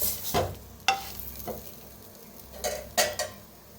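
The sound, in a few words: frying and turning crispy eggplant slices in a pan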